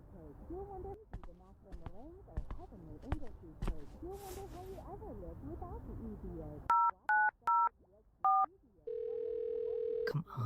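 A landline phone is dialed in an analog horror scene: a run of short, evenly spaced keypad tones followed by a steady dial tone, coming after a stretch of people talking.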